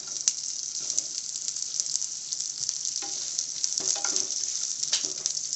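Chopped onions sizzling with dry masalas in a pan for paneer butter masala: a steady close frying hiss with a few soft stirring scrapes, no voices.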